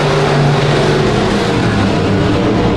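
Stock cars race on the Genesee Street dirt track, their engines a loud, continuous roar that holds steady throughout with no break.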